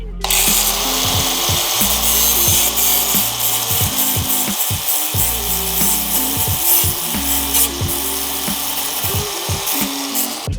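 A power cutting tool saws through the rear X-ray suspension system on a 4th gen Toyota 4Runner during a rock slider build, a loud continuous grinding whine close by with a pulsing, stuttering pitch throughout.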